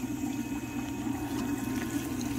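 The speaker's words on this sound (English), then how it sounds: "So yeah, the water comes in back there." Water rushes in a steady, continuous flow into outdoor fish growout vats, a low churning pour with no pauses, moderately close and without talk.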